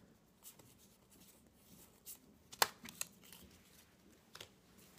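A card is drawn from a deck with soft papery shuffling and sliding rustles, capped by one sharp flick, quiet and close in an otherwise hushed room.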